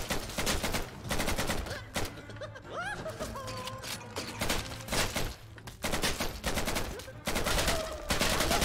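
Gunshots from a gun mod in the Hollow Knight video game, rapid repeated shots firing in steady bursts with brief gaps, loud and close, with game effects mixed in.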